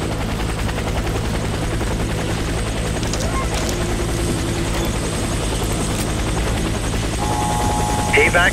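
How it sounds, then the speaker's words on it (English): Helicopter in the video game Warface, a loud steady rotor drone running throughout, with game voices and radio chatter over it. "Helicopter."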